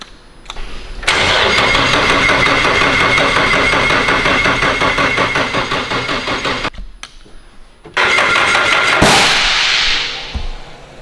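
A freshly built car engine cranks briefly and catches at once, roaring to a loud, steady rumble that cuts out and restarts, revving close by with no talk.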